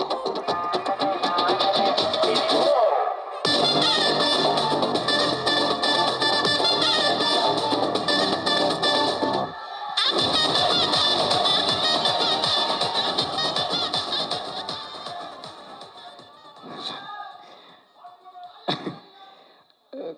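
A large audience at a movie pre-release event claps loudly and steadily to welcome hero, writer and director Ken Karunas onto the stage. The applause breaks off briefly twice, then thins out and fades.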